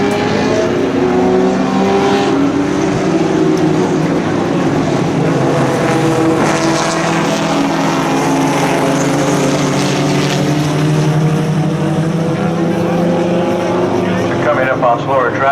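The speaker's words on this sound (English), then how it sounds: "he's out front now in that Porsche, car number 117, burgundy and silver, being pursued by Jeffrey O'Neill in that blue and white Maserati birdcage" Vintage race cars, including a burgundy and silver Porsche and a blue and white Maserati Birdcage, run at a sustained loud engine roar throughout, with an announcer talking over it.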